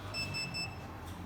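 An Arduino robot's buzzer gives a few short, thin electronic beeps in quick succession, set over faint room noise on a robotics display floor.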